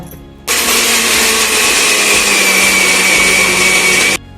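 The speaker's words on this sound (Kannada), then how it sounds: "ಈಗ ಬೆಲ್ಲನ ಶೇಂಗಾ ಕೂಡಿಸಿ ಮಿಕ್ಸಿ ಹಾಕಿ ಬಂದೀನಿ" A mixer grinder grinds peanuts with jaggery: a loud, steady, high-pitched whir starts abruptly, runs for about four seconds and cuts off sharply, with no talking.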